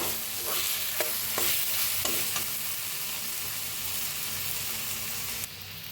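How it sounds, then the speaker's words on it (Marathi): Masala paste roasting in oil as it releases fat, stirred repeatedly with a spatula; rhythmic scraping strokes over a dense, close sizzle, alone without voices, easing slightly near the end. "मस्त असा मसाला भाजायला लागलाय आपला"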